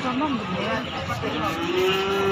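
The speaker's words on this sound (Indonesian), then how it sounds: "tepat di depan saya ini ada tiga ekor sapi ini Mbah Kaji Tomo" Cattle at a livestock market in Pati, Central Java, give long, low lowing calls that rise and hold, mixed with someone talking nearby and a busy crowd murmur.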